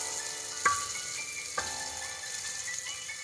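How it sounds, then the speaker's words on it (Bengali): Onions browning in hot oil in a pan for a chicken curry, with a steady close sizzle and two sharp clicks as a spoon stirs and scrapes; no talking. "পেঁয়াজগুলো একটু লাল লাল করে ভাজতে হবে।"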